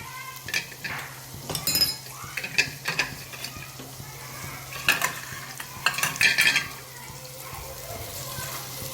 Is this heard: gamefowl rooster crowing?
no